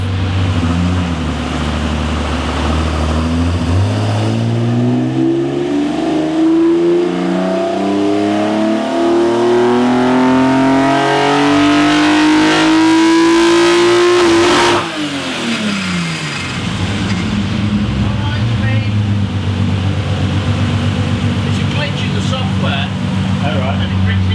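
A naturally aspirated Toyota 2JZ inline-six with individual throttle bodies revving on a dyno, loud engine note climbing steadily in pitch for about ten seconds before abruptly cutting off, then settling back to a rough idle.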